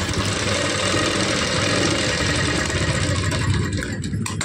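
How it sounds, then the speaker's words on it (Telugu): Sewing machine stitching darts into cloth, a loud, steady, rapid mechanical whir and knock that runs close and continuously before cutting out near the end, with no talking. "ఇప్పుడు దీన్ని మీకు కుట్టి చూపిస్తాను నేను, చూడండి."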